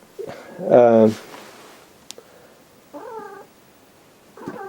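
A cat meows loudly and close, one long drawn-out call followed by two shorter, softer meows after a pause, with a faint bump between them in an otherwise quiet room.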